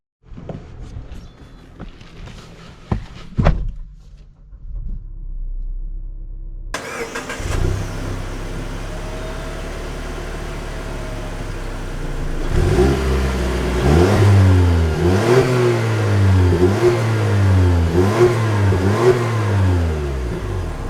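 A 2021 Mazda CX-9 Signature starts up, settles into a steady idle, then drives off and accelerates hard through several gear changes, the engine note rising and dropping in repeated sweeps, loud and close.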